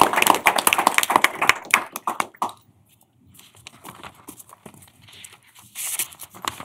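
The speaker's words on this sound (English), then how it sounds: "Let's give them one last round of applause." Small room of people at a State Board of Education meeting gives a brief round of applause, dense claps that thin out and stop, followed by quiet shuffling, taps and rustling.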